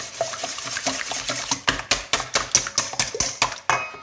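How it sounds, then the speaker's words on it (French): Eggs whisked by hand with a pinch of salt and sugar in a bowl for a chocolate cake, a run of quick, sharp rhythmic clicks and scrapes that speed up into a steady beat. "je fouette mes œufs"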